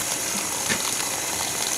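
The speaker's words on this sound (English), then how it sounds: "we've got plenty of bubbles here" Water bubbling and gushing inside an Infusion iron and sulfur removal system during start-up in a large home's mechanical room, a constant close frothing churn.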